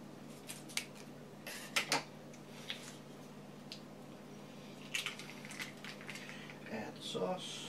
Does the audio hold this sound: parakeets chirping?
no